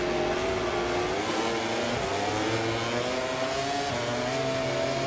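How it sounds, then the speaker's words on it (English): Motorcycle engines rev together on the grid at a race start in the MotoGP 24 video game at Sepang, a steady, loud, continuous drone with rising and falling pitch and no talk over it. "We rev the engine up."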